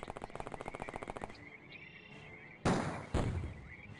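Gunfire in the OpenXcom Warhammer 40k mod video game: a rapid burst of about twenty automatic shots, then two loud heavy blasts that ring out, close and with no talk.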